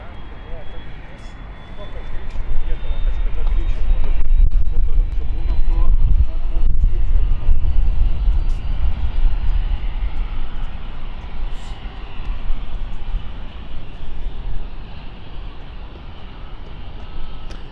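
NetJets jet engines spool up at London City Airport, a low rumbling roar that swells after a couple of seconds and holds steady, with a rising whine early on and a person talking over it.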